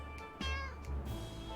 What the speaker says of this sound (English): It's a cat! Look at it.